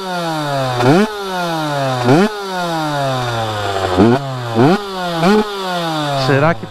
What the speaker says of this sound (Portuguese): Um barulhinho do dois tempos.